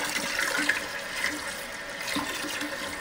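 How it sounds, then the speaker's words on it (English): Steady rushing water from a hose spraying and splashing inside a Toto porcelain toilet tank, continuous and close, with no voices. "now we'll just use this hose, which fills the bowl, and just spray down the inside of the tank"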